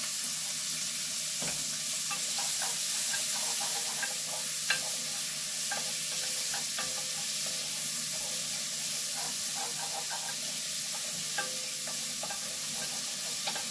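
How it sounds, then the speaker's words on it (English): Onions sizzle steadily in grease and a little olive oil in a pan on the stove, a continuous hissing fry with occasional crackles and stirring sounds, no talking. "let's put some onions in there"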